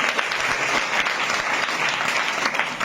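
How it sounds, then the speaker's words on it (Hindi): A room of schoolgirls at a girls' hostel clapping for a classmate, a steady, fairly loud, close burst of applause with no break. "इनके लिए ताली बजाओ जरा"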